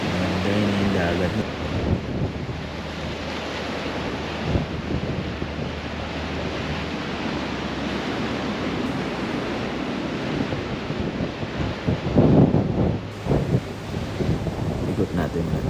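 Steady roar of ocean surf breaking nearby on the rocky shore at Kapurpurawan Rock Formation, Burgos, Ilocos Norte, with wind buffeting the microphone throughout and a heavier wave crash near the end.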